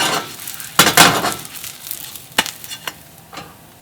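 Bindaetteok, Korean mung bean pancake, being reheated in a frying pan, with a soft sizzle under a few sharp clanks and scrapes of utensils against the pan, loudest near the start.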